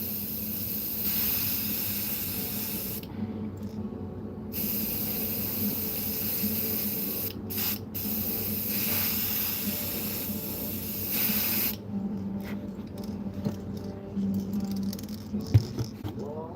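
A steady spray hiss runs almost continuously, broken by a few short pauses, with faint background rattling and hum.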